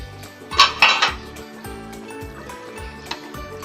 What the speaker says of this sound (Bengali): একটু নেড়ে চেড়ে দিচ্ছি আলু সিদ্ধ হয়েছে কিনা